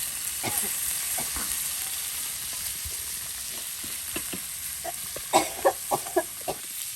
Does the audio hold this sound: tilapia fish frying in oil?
yes